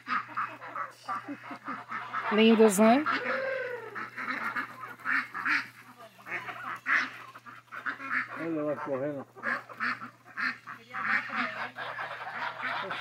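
Geese honking in an outdoor setting, several loud nasal calls at middle distance repeating irregularly, mixed with a person talking over them.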